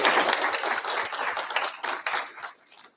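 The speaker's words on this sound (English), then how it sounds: "Round of applause," A conference audience at a London programming event claps in a dense burst of applause that gradually thins and fades out after a few seconds.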